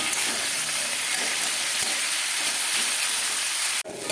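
Cauliflower and potato fry in oil in a pan, a loud, dense, close hiss that runs without pause and then cuts off abruptly for a moment just before the end.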